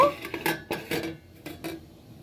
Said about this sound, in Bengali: খানিকক্ষণের জন্য আমি একটা ঢাকা চাপা দিয়ে দেব।